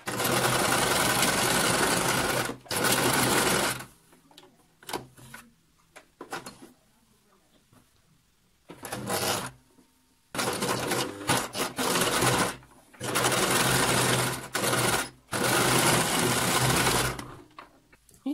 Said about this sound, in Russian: Прокладываю строчку на